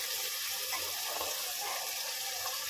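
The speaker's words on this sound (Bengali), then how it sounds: "এবার আমি আলু দিয়ে কষাবো।" Boiled potatoes fry in spiced oil in a pan for a Bengali alur dom, giving a steady, fairly quiet hiss and sizzle with slight fluctuations and no talking.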